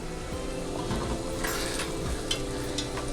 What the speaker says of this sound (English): I'll test one of the lobsters and flash fry it.